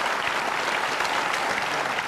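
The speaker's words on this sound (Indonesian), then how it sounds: "Jadi kita harus berikan aplaus untuk mereka" A studio audience on a talk show applauds in a dense, even burst of clapping that stays steady and fairly loud throughout, with no talking over it.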